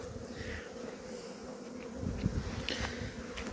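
Honeybees swarm and work around the hives at a springtime apiary in Antalya, a dense, steady buzzing hum filling the air with no voices, swelling slightly louder toward the end.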